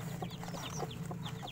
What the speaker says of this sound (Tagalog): May mga sisiw na.